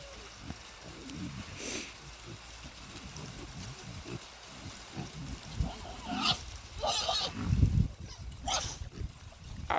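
Piglets on a small farm grunt and snuffle in a rainy garden, with soft scattered oinks through the clip, louder bursts toward the end, and a steady wet patter underneath.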